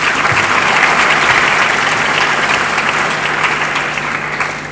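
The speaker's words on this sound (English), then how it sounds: "Please give a round of applause." Sustained audience applause at an interfaith dialogue event in Kuala Lumpur, a dense wash of many hands clapping that stays loud and steady, then eases slightly toward the end, with no talking over it.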